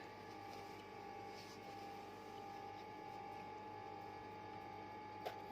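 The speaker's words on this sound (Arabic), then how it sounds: "وهنخيط بقى كده بالطريقه دي" A sewing machine stitches a non-cotton bedsheet fabric with a steady, continuous mechanical whir and rapid needle ticking throughout, moderately close and without talk.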